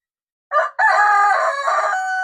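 A Rhode Island Red Mahogany breeder rooster crows once, close and loud, with a short opening note followed by a long sustained cock-a-doodle-doo call, on a backyard farm.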